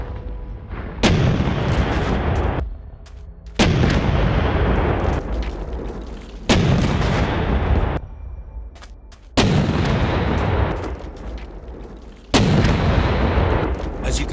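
A tank cannon in a Minecraft Bedrock addon fires five heavy booming blasts at regular intervals, each sharp onset followed by a long rumbling decay, loud and close with no talk.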